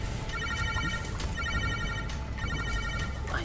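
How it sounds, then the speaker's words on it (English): Ringing orbs in the video game Fallout New Vegas give off a steady electronic ringing, repeated tonal pulses over a dense background hum, fairly loud and continuous, with no talk. "Oh, there's so many you bloody ringing orbs."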